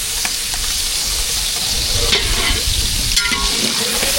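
Ground masala paste hits hot oil for a peas masala, sizzling and spluttering steadily at close range as it is stirred, with scraping pan sounds and no talking.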